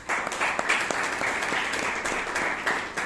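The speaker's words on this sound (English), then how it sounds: "we really need to commend and give a big round of applause" Members at a Bangalore Toastmasters meeting give a round of applause, brisk even clapping from a modest indoor group, sustained evenly across the moment.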